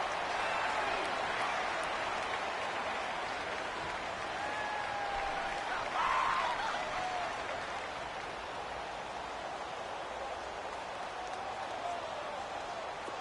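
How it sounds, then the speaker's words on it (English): Steady roar of a stadium crowd in an American football video game on PS4, broad and continuous with a slight swell midway as a big third down approaches, no talk over it. "the crowd getting into it as we come up on a big third down"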